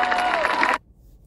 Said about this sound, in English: you heard all those women cheering for him